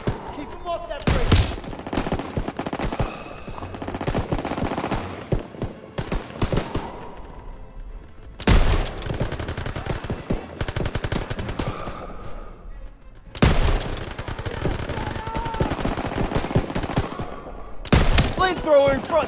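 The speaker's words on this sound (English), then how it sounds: "MGs, open fire. Keep them off that bridge." Rapid machine gun bursts from Call of Duty WW2 rattle in three long, loud volleys separated by short gaps, with battlefield noise and a voice mixed in.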